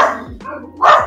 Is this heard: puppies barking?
yes